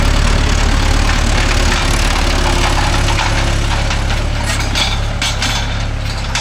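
Mahindra Yuvo Tech Plus 585 4WD tractor engine running steadily while pulling a 9-tine spring cultivator in a field, a loud, close, continuous diesel rumble with no pause or voices.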